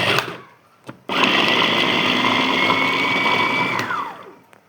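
An electric spice grinder blending cumin, coriander, black pepper and a little cinnamon starts after a couple of faint knocks, then roars loudly and steadily for over three seconds before winding down.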